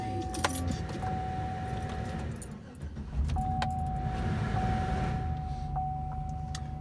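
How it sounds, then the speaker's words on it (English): A Chevy truck engine starts up after a brief jingle of keys, the idle settling into a steady, moderately loud rumble that continues to the end. "So I'll go ahead and fire the truck up."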